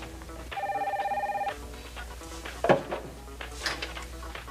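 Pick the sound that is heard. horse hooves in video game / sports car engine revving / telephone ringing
telephone ringing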